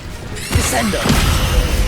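A Descendo spell slams down in Hogwarts Legacy with two heavy, close impacts about half a second apart. Each thud is followed by a rumbling crash that stays loud to the end.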